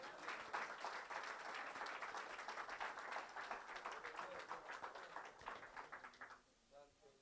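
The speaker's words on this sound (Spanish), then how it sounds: "Dale un aplauso de gloria al Señor." A church congregation gives a vigorous round of applause to the Lord during a sermon, brisk clapping that holds steady, then thins and fades as a voice begins speaking near the end.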